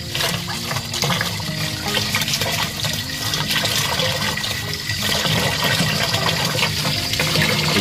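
Water rushing and splashing continuously as sugarcane jaggery is mixed into a large batch of about 25 liters, a loud, broad churning wash with no pauses and no talk over it.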